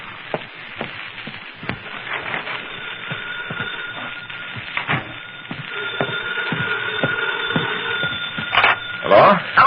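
An old-time telephone bell rings in a late-night radio crime drama, a steady ringing tone running beneath conversation and clatter.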